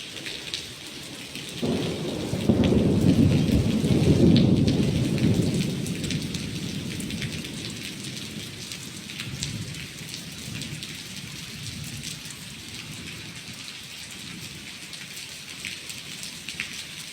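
Heavy rain and gusting wind sweep over an old, unlit temple pavilion on a hilltop, a loud dense roar that swells early then settles into a steady downpour with pattering drops and no voices.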